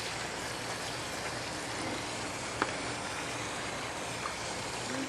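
Steady broadband rush of water running through a gold cleanup sluice, continuous and fairly close, with no talk over it.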